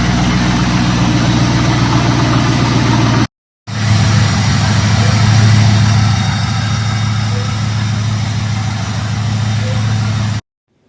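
A Ford Focus fitted with a swapped C5 V8 engine idles steadily and loudly up close, a deep continuous rumble with a short cut near the middle, warming up to temperature.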